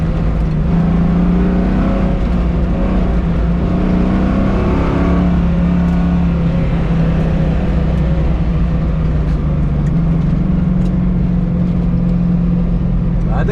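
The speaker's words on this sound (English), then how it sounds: "I get to race the drag race Corvette." Drag race Corvette engine holding a loud, steady droning rev during tire warm-up at an autocross event, continuous and close throughout, with a voice talking over it.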